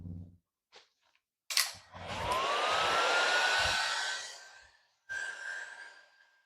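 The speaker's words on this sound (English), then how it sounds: "So what we're going to do is hit it with a heat gun, and that will melt just the tops and make a nice shiny coat." A heat gun melts the tops of homemade lip balms, starting after a click and blowing as a rising whoosh with a thin whine that fades, then bursting on again briefly after a pause.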